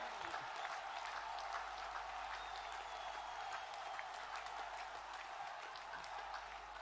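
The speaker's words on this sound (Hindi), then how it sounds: "ताली बजती रहना चाहिए" Dense, sustained clapping rolls through a large crowd at a Modi political rally in Bengal, an even wash of applause lasting throughout with faint voices mixed in.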